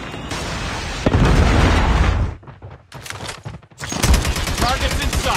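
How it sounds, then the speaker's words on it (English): Explosions and gunfire from a video game Predator missile strike, a loud sustained blast followed by scattered bursts and a second heavy roar, with game voice callouts mixed in. "Friendly Predator missile inbound."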